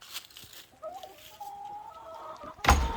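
Meat turkeys clucking softly at close range, with a few low, drawn-out calls, then a short, louder rustling burst near the end.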